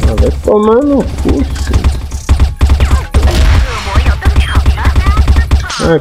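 Rapid video game gunfire during a firefight, bursts of sharp shots throughout under loud, excited talking, close and dense.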